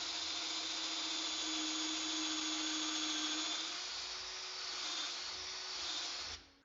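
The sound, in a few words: drilling pocket holes with Kreg pocket hole jig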